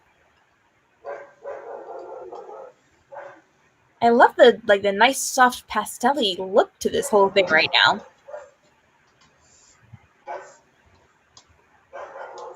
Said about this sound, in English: I'm so sorry if you guys hear that dog barking.